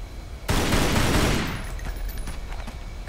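A loud burst of rapid gunfire erupts suddenly in the video game Tomb Raider Anniversary on PC, fading into scattered shots and echoing rumble, with no voices.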